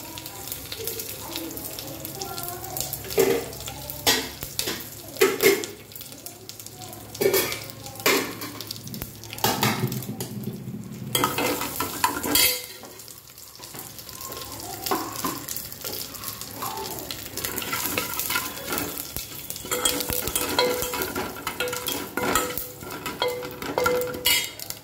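Tempering of cumin, asafoetida, curry leaves and a dried chilli frying in hot oil, with crackling sizzle broken by repeated clinks and scrapes of a spoon and pan, loud in bursts and fading briefly midway.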